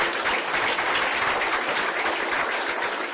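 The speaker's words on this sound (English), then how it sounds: "I would request all of you to give a clap." An audience claps at an award ceremony. The applause is loud, even and sustained from start to finish, with no break.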